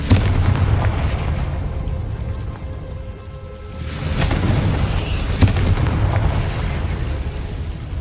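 The Confringo spell explodes in the Hogwarts Legacy video game, a loud, booming blast followed by a rumbling decay, then more bursts of crackling impact.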